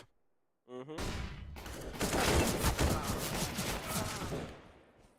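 Counter-Strike match gunfire, a burst of rapid shots fired in a fusillade that starts abruptly after a short quiet moment and continues densely for several seconds before tailing off, loud and close.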